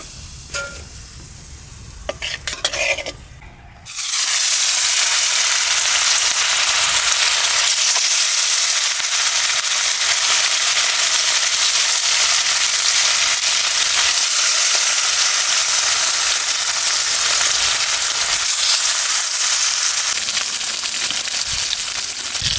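Rupchanda pomfret fish hits hot oil with turmeric, bursting into a loud, dense, continuous sizzle up close that carries on steadily after a few brief clanks at the start.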